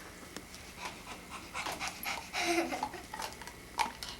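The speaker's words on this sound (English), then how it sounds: "What does that dog say, Julia?" A dog pants in quick, rough breaths throughout, fairly close and moderate in level, with a few faint whimpery noises and no talking over it.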